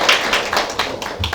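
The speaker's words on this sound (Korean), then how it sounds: "박수 부탁드립니다." Brief clapping from an audience at a Gyeonggi Province integrated care leadership training session: a short, close patter of hand claps lasting just over a second.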